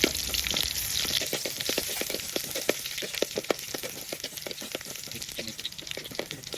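Shallots sizzle steadily in hot oil in a pan for a Shan-style mixed vegetable curry, a dense continuous crackle with scattered sharper pops, close and fairly loud.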